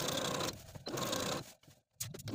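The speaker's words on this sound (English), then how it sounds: "to my sewing machine and sew all around the waistline once again" A sewing machine runs steadily while stitching around a dress waistline, a fast, continuous mechanical whir with short pauses and one brief stop before it starts again.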